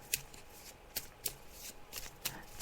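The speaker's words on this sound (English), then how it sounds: "When they tell me to stop, I'll stop shuffling the cards." Fortune cards being shuffled by hand nearby, a run of soft papery slaps and riffles in an uneven rhythm, quiet and alone without speech.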